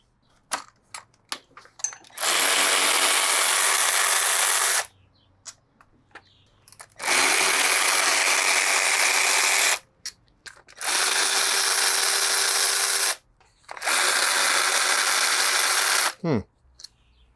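Power tool spinning off bolts while removing the front wheel of a 1985 Yamaha FJ1100 motorcycle: four loud, sustained whirring bursts of a few seconds each, separated by short pauses with small clicks and handling noise.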